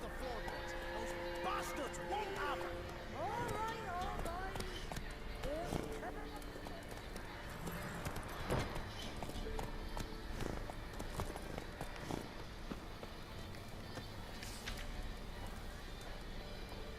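Geralt's horse Roach gallops in The Witcher 3: Wild Hunt with rapid, rhythmic hoofbeats and a whinny, under voices talking throughout.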